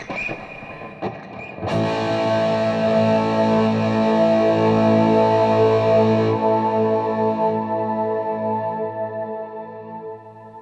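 A sustained electric guitar chord through stacked EHX Canyon and Oceans 11 shimmer pedals into a Marshall amp blooms into a dense, shimmering wash with octave-like overtones, ringing loudly and slowly fading out, after a few brief picked notes.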